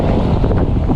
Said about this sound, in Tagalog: Kasi mahangin-hangin naman.